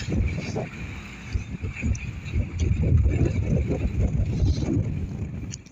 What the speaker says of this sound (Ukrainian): на дворі холодно, вітер такий зовсім неприємний